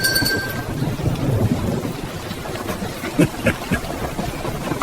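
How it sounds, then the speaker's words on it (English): A thunderstorm with steady rain pouring throughout and low rolling thunder, plus a few sharper cracks near the end; continuous and fairly loud, with no voices. "It's just a thunderstorm."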